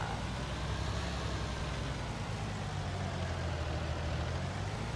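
A truck engine idles steadily with a low, continuous rumble in Farming Simulator 19, quiet and even throughout with no voices.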